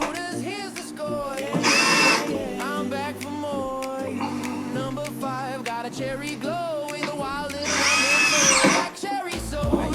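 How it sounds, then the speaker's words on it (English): A screw gun drives a drywall screw through a hole into wallboard, with a loud, whining motor that rises and falls in pitch, in two strong high-pitched bursts separated by lower running and mechanical rattle. "I'm going to screw it right through one of the holes."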